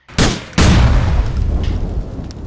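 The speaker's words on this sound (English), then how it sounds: "The fuel pumps took 5 shots to blow up" Gunfire at fuel pumps at a service station in GTA IV: two loud, close shots in quick succession, each leaving a long rumbling tail that fades out.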